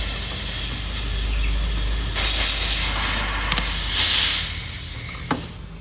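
Refrigerant from a refrigerator's cut filter line hisses out loudly in a sustained, close rush, swelling into stronger bursts twice and punctuated by a few sharp clicks before tapering off near the end.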